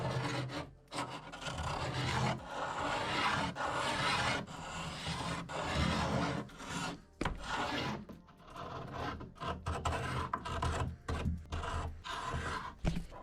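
Close, continuous rasping as a blade scrapes paint off a 1930s wooden dresser in repeated strokes with short pauses between passes; no voices.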